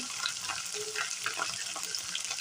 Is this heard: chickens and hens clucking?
no